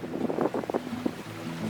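Light wind on a sailboat under gentle sail, with steady wind rush and microphone buffeting plus faint water movement, continuous and close for under two seconds.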